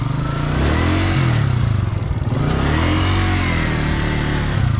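A motorcycle engine drones close by while riding, its mid-pitched note rising and falling as the throttle changes, loud and steady throughout.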